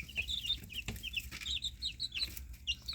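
Young chickens in a coop cluck and peep in quick, high, repeated chirps, scattered across the whole moment at close range over a low background rumble.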